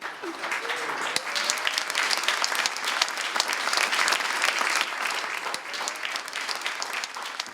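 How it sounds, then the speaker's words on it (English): Sustained applause from a crowd at a community bank launch event, steady and fairly loud dense clapping that holds for several seconds before easing slightly, with no voices standing out. "Please give him a huge round of applause."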